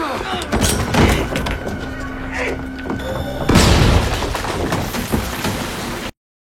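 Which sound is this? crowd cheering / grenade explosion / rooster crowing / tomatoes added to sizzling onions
grenade explosion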